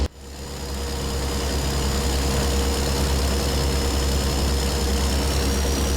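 Kenworth W900 truck engine cruising on a highway in American Truck Simulator, a loud, steady low diesel drone with a constant hum and no change in pitch, alone without voices.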